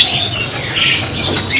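Cipo birds for sale at a bird kiosk in a market, loud close chirping and squawking from many birds at once with a sharp burst near the end.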